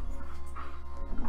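A female dog whimpers and gives soft, muffled yips indoors, the sound close but fairly subdued, with brief whining tones over a low rumbling background.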